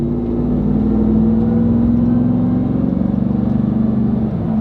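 Deep, steady rumble of a RAM TRX V8 engine, loud and close, holding a sustained throbbing drone with a slight rise in pitch as it revs, no voices over it.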